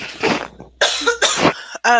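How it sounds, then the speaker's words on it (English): Several harsh coughs close to the microphone, coming in quick bursts with short pauses between them. "Although now I have a cough."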